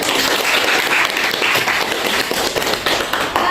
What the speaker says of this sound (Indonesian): Kita kasih aplaus untuk kelompok 1.